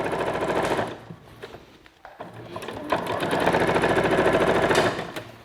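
A sewing machine stitching a jacket seam from the armhole, running in fast rattling bursts, pausing briefly, then stitching again in a longer steady run, close and loud.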